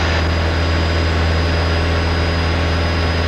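A light training aircraft engine runs at full power during circuit flight training in Canada, giving a loud, steady, low droning roar with no pauses, heard from inside the cabin.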